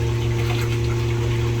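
A train washroom toilet flushes with water after its black button is pressed, giving a steady, loud gushing rush with a strong low pump-like hum throughout, close to the microphone and with no talk over it.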